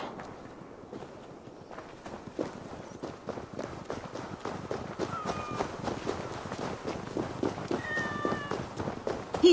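Cats meow repeatedly in the Assassin's Creed Valhalla video game, close and fairly loud over a busy backdrop of footsteps and hoof-like clopping, with short tonal cries standing out in the second half.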